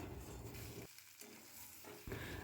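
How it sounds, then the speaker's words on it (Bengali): Potatoes fry in spice masala in a pan, a steady close sizzle broken by stirring scrapes, with no talking. "আর এখানে কিন্তু আমার আলুটা ভাজতে ভাজতে প্রায় ভাজা হয়েই এসেছে।"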